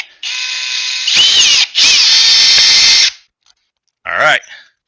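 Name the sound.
Milwaukee hammer drill running in drill mode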